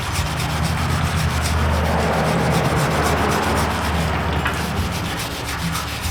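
Rust is scrubbed off the front brake parts of a 2013 Chevy Caprice police car, a loud, continuous, close-up abrasive rubbing and scraping with no pauses.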